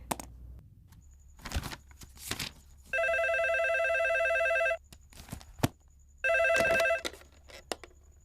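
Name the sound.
telephone ringing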